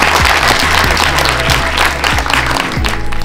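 A film premiere audience in Timișoara breaks into loud, sustained applause, a dense wash of clapping filling the room from start to finish.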